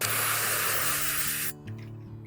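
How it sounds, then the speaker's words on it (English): A strong hose spray blasts aphids off a garden plant, a loud steady hiss of water that cuts off abruptly partway through, leaving a low hum behind. "So what we can do is physically spray them off."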